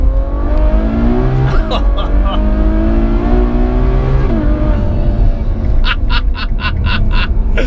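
A Ferrari GTC4Lusso engine revs and climbs in pitch through the gears, loud and close, with a person talking over parts of it.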